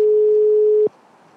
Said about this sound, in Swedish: Jag ringer upp Kristina Fogt